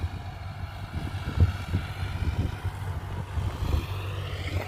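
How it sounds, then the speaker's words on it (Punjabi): Sonalika tractor running with a vacuum planter machine sowing maize in a field, a steady low engine drone with a mechanical whine above it, continuous and close, no voices. "ਚੱਲਦਾ ਸੋਨਾਲੀਕਾ ਟਰੈਕਟਰ ਵੈਕਿਊਮ ਵਾਲੀ ਮਸ਼ੀਨ ਨਾਲ"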